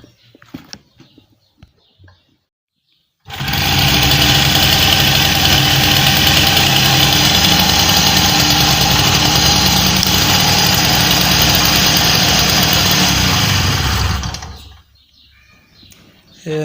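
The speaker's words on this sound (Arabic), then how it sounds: "نحطو الفيشة الموتور تسكت، نحي الفيشة الموتور معناها تمشي" A Peugeot car engine idling close by, a steady loud mechanical drone that starts abruptly, runs evenly for about eleven seconds and then cuts off; brief faint speech before and after.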